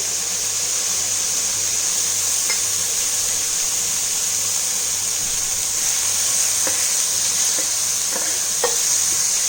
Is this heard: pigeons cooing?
no